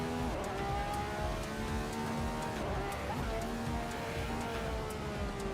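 Assetto Corsa's default car engine sound holds a steady droning tone with layered harmonics under faint background noise, shifting slightly in pitch but staying continuous.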